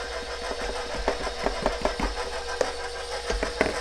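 A KitchenAid stand mixer churns apple bread dough with a steady, loud motor whir, broken by uneven knocking thumps as the dough slaps around the bowl.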